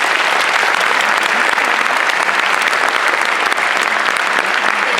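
A graduation audience applauds a group of high school seniors, dense sustained clapping from a large crowd, loud and even throughout.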